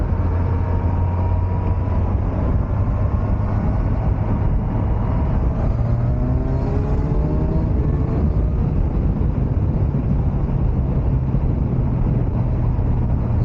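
A Kawasaki Ninja 1100SX motorcycle ridden at high speed, a loud, constant roar of engine and wind rush with a steady low drone and a faint rising whine, no talking.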